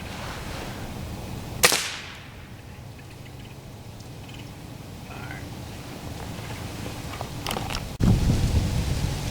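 A Crosman F4 .177 air rifle with a silencer fires at a target, giving one sharp crack over a hissy outdoor background. A second thump follows several seconds later.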